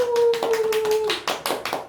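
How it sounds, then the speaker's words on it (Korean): An audience claps at a book talk event with a city mayor. The claps are uneven, and the separate strikes grow sharper toward the end. A steady humming tone sounds under the first half. "박수! 많이 주셔서."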